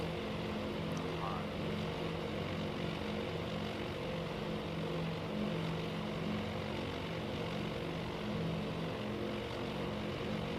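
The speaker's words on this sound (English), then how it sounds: "It is cool to see all those planes on the move though." Propeller warplanes fly in the naval strategy game Task Force Admiral, making a steady, low engine drone that stays even and continuous throughout.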